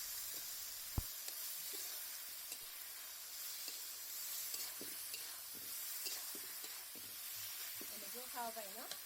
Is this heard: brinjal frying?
yes